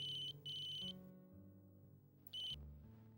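A phone ringtone sounds in two short bursts of a bright electronic tone, separated by a gap, loud and close over a low musical backdrop.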